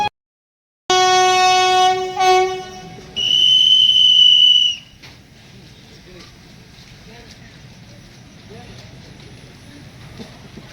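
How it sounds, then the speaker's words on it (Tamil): A Kannur–Yeshwanthpur Express (train 16528) sounds its horn as it departs: a loud, sustained blast followed by a second, higher-pitched one, then a low rolling rumble as the train moves off. "நம்ம ட்ரெயினுக்கு ஹார்ன் அடிச்சிட்டாங்க."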